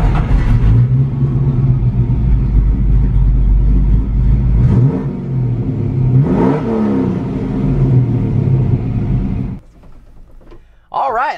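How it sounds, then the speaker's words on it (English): A slammed truck's V8 engine rumbles and revs loudly up close, the deep idle swelling in a couple of throttle blips before dropping away near the end. "I'd much rather listen to the beautiful V8 soundtrack"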